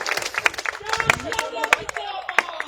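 A rally crowd at an Aam Aadmi Party Ambedkar Jayanti program in Champaran, Bihar claps in scattered bursts, the sharp hand claps mixed with someone speaking loudly over a public address.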